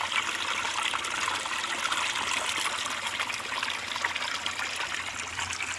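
Water discharges and recirculates through a Gold Cube sluice while gold is run from a bucket, a steady close trickling and rushing flow with no talk over it.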